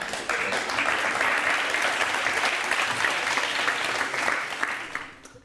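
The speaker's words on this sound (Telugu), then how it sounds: "ఇందులో క్లాప్స్ కొట్టడానికి ఏముంది?" A studio audience at a televised courtroom-style talk show claps together in a full, sustained burst of applause that holds steady and then tapers off at the end.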